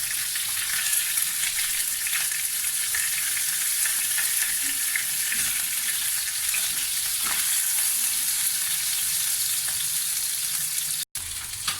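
Pieces of fish shallow frying in a pan, cooked lightly on each side until golden. A loud, dense sizzle fills the whole stretch without a break and no one talks over it.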